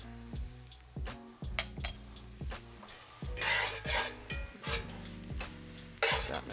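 A spoon stirs ketchup into a simmering mushroom and onion sauce for homemade Salisbury steak, rhythmic scraping strokes against the pan over a soft bubbling sizzle, close and fairly quiet.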